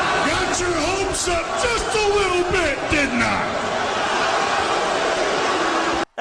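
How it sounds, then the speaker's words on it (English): Wrestling arena crowd at a WWE Survivor Series 1997 event roaring and cheering wildly, a loud sustained mass of voices with whoops and shouts that cuts off abruptly at the end. "Oh, the crowd have gone crazy."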